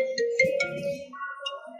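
A short electronic phone ringtone chimes in a bright, melodic pattern over low background murmur, fairly close and clear.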